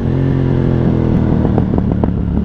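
A Ducati Hypermotard 1100 Evo motorcycle engine revs hard and loud close by, a throaty roar with rough, crackling pulses as the throttle is worked.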